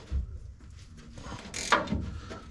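A wrench tightens bolts on an external transmission filter kit, making a few close metallic clicks and ratcheting scrapes with a short rustle of handling.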